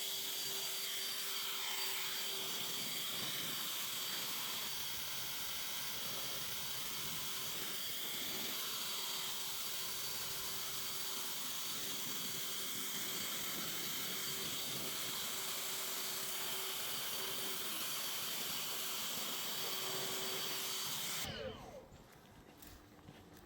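A 670 CFM air blower roars in a loud, steady hissing rush while drying a freshly washed car, then cuts off abruptly near the end.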